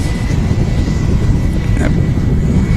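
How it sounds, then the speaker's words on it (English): A British Airways Airbus A380 airliner taxiing at Manchester Airport gives off a loud, steady, broad engine roar with a faint high whine, constant for the whole stretch, no talking over it. "British Airways A380 on the taxi out here."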